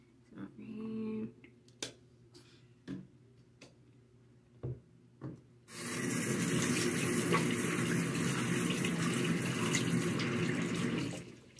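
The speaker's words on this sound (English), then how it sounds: "So, wash your hands" A tap runs for handwashing, starting abruptly after a few scattered knocks and clicks, then a steady close rush of water that continues to the end.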